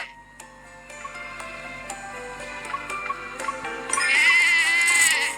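A sheep bleats over soft ticking clicks and background music, the bleat brief and moderately close near the end.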